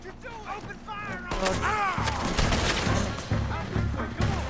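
Gunfire in Red Dead Redemption 2: a busy fusillade of overlapping shots and thuds, close and loud, mixed with shouting voices throughout.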